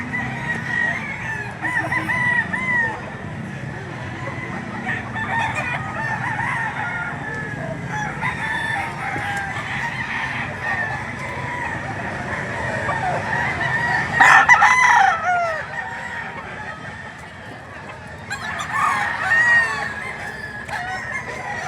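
Many chickens and roosters at a poultry market in Lipa City, Batangas, crow and cluck continuously in an overlapping chorus, with one louder crow rising near the end.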